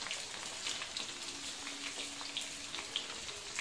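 Small onions sautéing in oil in a pan for tomato thokku give a faint, steady, rain-like hiss with scattered light pops, heard quietly throughout.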